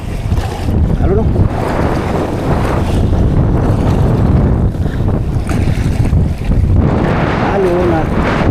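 Strong wind buffets a small fishing boat at sea during the northeast monsoon, a loud gusting rumble of wind across the microphone with splashing waves, and a voice calls out briefly over it.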